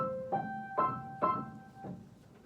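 Piano notes played high up the keyboard with the hand in C position: four separate bright notes, each struck and left to ring and fade, close and clear with no other sound.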